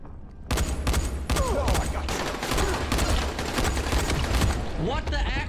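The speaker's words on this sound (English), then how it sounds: "Dude, I'm shooting you in the head" Rapid gunfire rips through a Dying Light co-op match, bursts of shots crackling in quick irregular volleys for several seconds, loud and close, with players talking over it.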